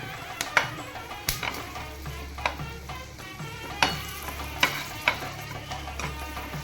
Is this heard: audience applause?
no